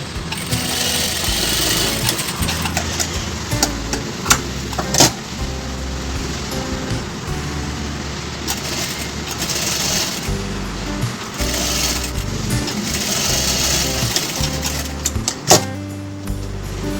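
A sewing machine stitches a hook-and-eye tape onto a padded blouse, a steady close mechanical whir running almost without a break, with a few small clicks and knocks.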